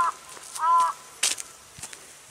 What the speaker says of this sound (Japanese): カラスが鳴いてます。